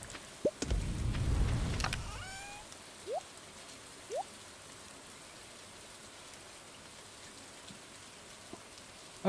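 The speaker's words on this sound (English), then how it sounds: "Yay, rain." Steady rain hisses across a video game scene, with a brief low rumble and soft thumps near the start and a few faint chiming blips.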